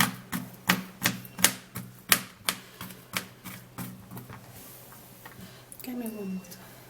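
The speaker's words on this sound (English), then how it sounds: "still cut it this way so that the sliminess would come out when you cut it in smaller pieces like this." A knife chops okra into small pieces on a board, about a dozen sharp, evenly spaced cuts in a quick rhythm that then thin out and stop, close and clear, before a brief voice.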